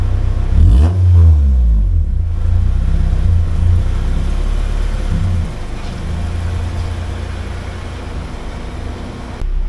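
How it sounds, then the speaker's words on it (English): A car with a Honda K20A3 engine, stock ECU and aftermarket intake and exhaust, revs loudly and rolls off a dyno, giving a sharp rising rev and then a steady, deep exhaust rumble up close. "Now I'm gonna go ahead and get the car off the dyno"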